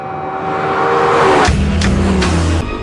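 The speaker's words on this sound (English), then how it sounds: "it revs so fast they couldn't fit a conventional rev counter" A Lexus LFA engine revving hard, a loud near howl that climbs steeply then drops into a lower rumbling idle with sharp bursts, heard alone.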